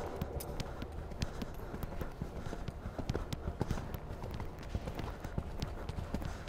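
A horse trots during a riding lesson, its hooves clip-clopping in a steady, fairly quiet rhythm against continuous background noise.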